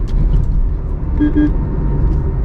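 Steady engine drone and road rumble inside a car overtaking on a highway, a continuous close, fairly loud wash of low noise with no speech.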